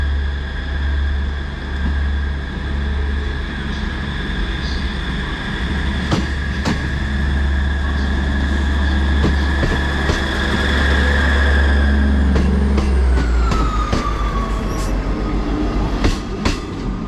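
An Azuma train rolls slowly through a station on its way to a wash, giving a loud, steady rumbling drone with whining tones, scattered clicks and clanks over the rails, and a pitch shift near the end.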